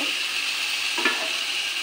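A constant bright sizzle of fried fish pieces cooking in a spiced paste with yogurt in a pan, with a brief scraping stir near the middle; no voices.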